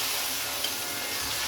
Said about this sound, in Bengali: পেঁয়াজটা ভাজছি।